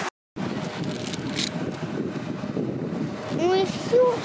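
Steady wind roaring and buffeting against the microphone, continuous and loud, with a brief quiet gap at the start.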